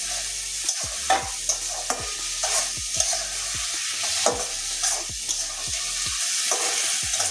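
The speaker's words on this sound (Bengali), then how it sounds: "এবারে ভেজে রাখা পটলগুলো দিয়ে দেবো।" Fried pointed gourd stirred into a sizzling spice masala in oil for doi potol, a steady frying hiss with repeated spatula scrapes and knocks, no voices.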